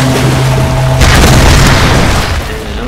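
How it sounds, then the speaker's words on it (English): A deep, rumbling video game explosion in Tomb Raider booms loudly and fills the clip, with a low roar that swells after the first second and slowly tails off. "And another explosion."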